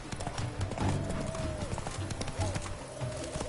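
Hooves of the horse Roach clip-clop in steady rhythm in The Witcher 3 game, with a voice speaking over the footfalls.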